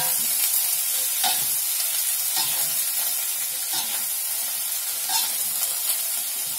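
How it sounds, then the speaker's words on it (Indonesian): Bean sprouts with tofu and spring onion are stir-fried in a pan, a constant loud sizzle broken by regular scraping stirs every second or so, close up with no talk. "kita aduk sampai matang ya"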